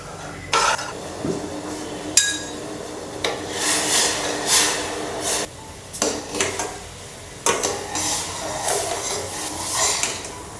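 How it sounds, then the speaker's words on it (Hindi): A metal pot of sugar, water, saffron strands and green cardamom is set on a stove to boil for a chandrakala sweet, with intermittent metallic clanks, scrapes and clatter close by and no talking. "और अब इन सब चीज़ों को हम उबलने के लिए रख देंगे।"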